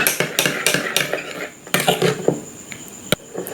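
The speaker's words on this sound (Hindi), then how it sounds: "तो अभी हमें इसको अच्छे से मिक्स कर लेना है।" Aloe vera gel and vitamin capsule oil are stirred together in a small container, with quick, repeated clinks and scrapes of a spoon, a short pause, then more tapping strokes close by.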